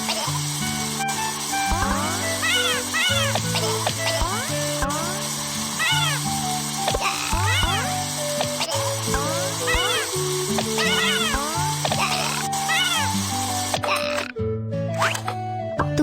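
Cartoon kitten meows repeatedly over a bright, busy children's music bed, the rising mews recurring throughout at close, steady loudness.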